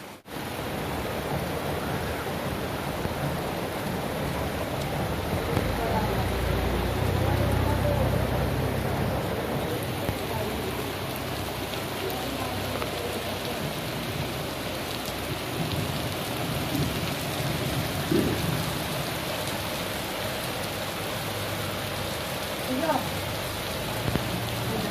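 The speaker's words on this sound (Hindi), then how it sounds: "और बारिश को कंप्लीट ज़रूर इंजॉय कीजिएगा" Steady heavy rain falls continuously on surfaces, a dense even hiss of drops with occasional louder splats and a faint low rumble, close and unbroken throughout, with no talking.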